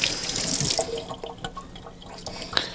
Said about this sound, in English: I'm going to pour some cold water on this